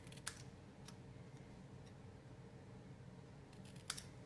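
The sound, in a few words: angle cutting paper for a greeting card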